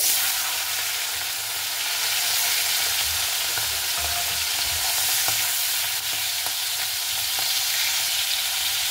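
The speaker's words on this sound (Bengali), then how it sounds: "এবার আমি তেলে ভেজে নিচ্ছি" Prawns, washed and then frying in hot oil for potol chingri, give a steady, dense, loud sizzle that holds evenly from start to finish with faint stirring clicks underneath and no talking.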